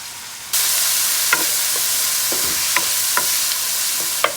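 Onion and garlic hit hot olive oil in a pot over medium heat for homemade marinara, bursting into a loud, steady sizzle with occasional soft pops and stirring clicks.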